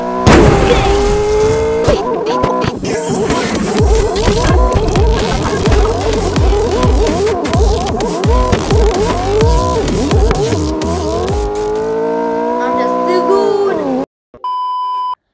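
A Roblox game car drives and revs on a highway, its engine tone rising and falling through gear-like sweeps for about fourteen seconds before cutting out, followed by a few short electronic beeps.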